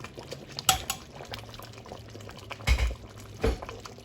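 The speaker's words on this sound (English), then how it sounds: "Everything is bubbling." Nigerian egusi soup bubbling and simmering in a pot, with a few louder pops and clinks of cookware standing out from the steady background.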